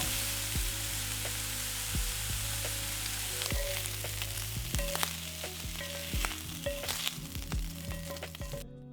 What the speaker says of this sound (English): we're going to heat up an 8-inch skillet and add our sausage